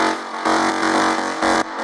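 Dry melodic techno synth stabs without reverb play as a few sustained, bright chords, louder and more upfront, each cutting off cleanly before the next.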